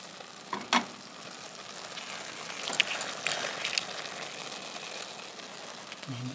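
Rice cooks down in a pan with a soft, steady sizzle and crackle, broken by a few light scrapes and taps of a utensil.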